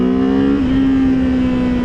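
A 2024 Kawasaki Z7 Hybrid motorcycle accelerating hard under eBoost, its loud steady engine drone holding one pitch with a slight step partway through, heard up close without talk.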